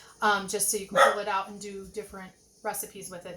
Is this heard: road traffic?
no